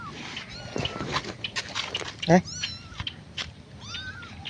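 Kittens meow repeatedly in short, high calls, close by and fairly loud, with a person talking among them.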